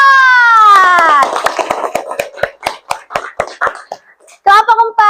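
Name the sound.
classroom children clapping for group 4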